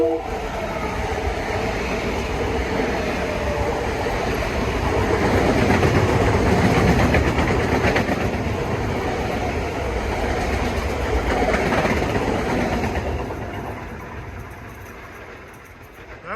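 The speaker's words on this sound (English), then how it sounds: "That was a Massapequa bound train." A Long Island Rail Road train bound for Massapequa passes through Valley Stream, its steady rolling roar and rail clatter swelling as it goes by and then fading away in the final seconds, with no voices.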